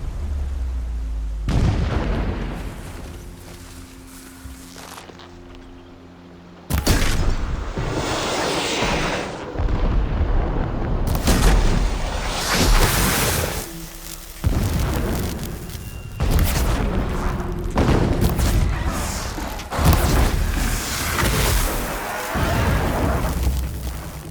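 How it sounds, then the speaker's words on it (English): Distant explosions in the video game Horizon Zero Dawn Remastered, a series of deep booms and rumbling blasts recurring every few seconds, heavy and sustained with no speech over them. "explosions in the distance. Pay that no mind."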